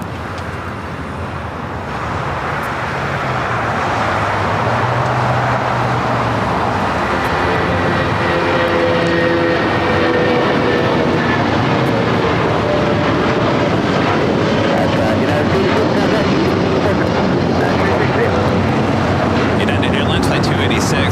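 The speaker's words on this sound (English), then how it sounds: "United Airlines Flight 286 heading to Newark in this 24-year-old 757 at 200." A 24-year-old United Airlines Boeing 757 jet airliner takes off from Los Angeles airport, its engines building to a loud, steady roar with a rising whine after a quieter start.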